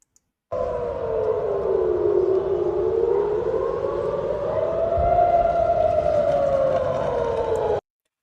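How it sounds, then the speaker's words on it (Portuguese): An air raid civil defense siren in central Tel Aviv wails loud and continuous for about seven seconds, rising and falling slowly in pitch, with no talk over it. "Dá para ver a sirene de defesa antiaérea e ver a fumacinha da intercepção ali do míssil"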